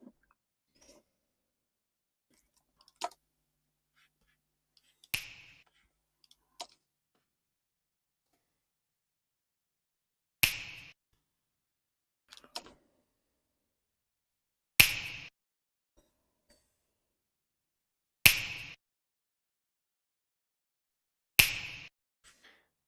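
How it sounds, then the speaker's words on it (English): Finger snap sample in a music mix, sharp crisp snaps repeating at spaced intervals, about seven distinct hits with near silence between them. "Same with the finger snap, so very, very transient."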